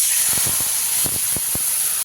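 Tamarind pulp hits hot oil with dried chillies and five-spice, giving a steady loud sizzling hiss with a few soft pops, cutting off abruptly at the end.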